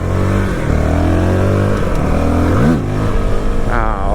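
A Honda CRF450RL dirt bike engine revs hard during wheelies, a loud close buzzing drone that holds high, dips and surges again with sharp throttle blips near the end.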